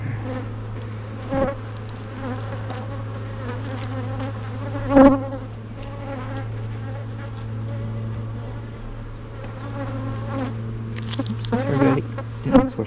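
Honeybees, including drones, buzzing around an open hive during a mid-July inspection: a dense, continuous drone close by, with individual bees zipping past the ear in louder swells.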